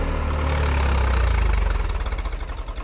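A Swaraj 855 4x4 tractor's diesel engine runs close by with a heavy low rumble, then the throbbing slows into pulses as it winds down after being shut off.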